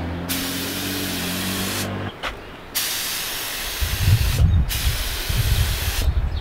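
Spray paint hissing onto a Kia Stinger GTS car part for another coat, a loud close continuous spray broken by brief pauses between passes, with a low hum in the background.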